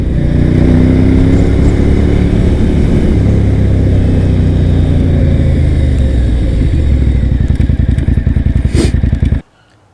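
A truck rumbles past a Suzuki TL1000R motorcycle on a bumpy back road, its loud steady roar mixed with engine drone and wind noise before cutting off abruptly near the end.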